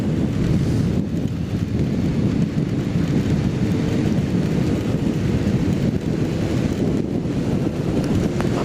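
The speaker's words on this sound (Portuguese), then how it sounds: "Tá chovendo bastante mesmo" Heavy rain pours during a ride on a Kawasaki Z750 motorcycle in cold weather near São Paulo, a dense, constant roar of rain and wind buffeting the microphone, loud and unbroken.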